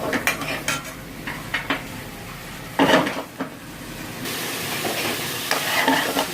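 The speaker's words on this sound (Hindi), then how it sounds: "मक्खन डाल के इसको 2-3 मिनट के लिए बुनाई करेंगे अच्छे से" Chicken sautéing in butter in a pan for a chicken makhani, with a steady faint sizzle under repeated clinks and scrapes of a utensil stirring against the pan, including a louder scrape burst midway.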